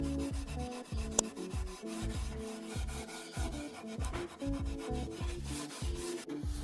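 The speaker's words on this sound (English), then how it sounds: "I just took a steel wool and some acetone, and I just was able to scrub off all of the writing on it" Steel wool soaked in acetone scrubs old writing off a wooden dresser, a steady rhythmic back-and-forth rubbing and scraping that repeats in quick strokes, close and continuous.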